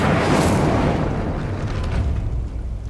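A fire spell cast in a Hogwarts video game: a loud, dense whooshing burst of flame that swells at once and rumbles on steadily before slowly thinning out, with no talk over it.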